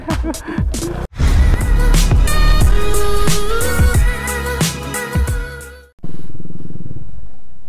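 A big-bike motorcycle offroading, its engine roaring loud and close under wind buffeting, with a sharp cut near one second and another after six seconds, and brief voices in the background.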